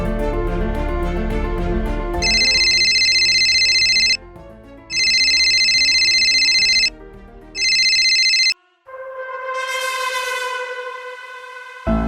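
Outgoing phone call ringback tone, a loud electronic ring in repeated bursts with gaps, followed by a steady higher tone pattern as the call ends without answer.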